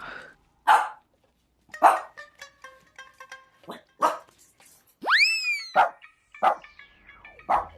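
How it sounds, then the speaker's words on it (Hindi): A dog barks in short, loud bursts spaced a second or so apart, close by, with a springy boing-like effect sweeping through the middle of the sequence. "ये मोटू भौंक क्यों रहा है?"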